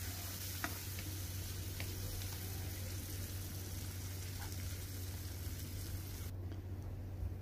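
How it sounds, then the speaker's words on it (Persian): Colored bell peppers are sautéed briefly in a pan, giving a steady hiss with occasional small ticks over a low background hum, without any speech. "فلفل شیرین رنگی یه مقداری اضافه میکنم، یه تفت خیلی مختصر میدم دوباره."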